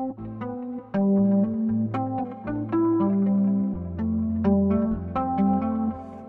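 Electric guitar played through a Quartarone Reveries pedal on its chorus mute setting, a steady run of clean, shimmering notes and chords with a lush modulated tone, close and continuous with no talking.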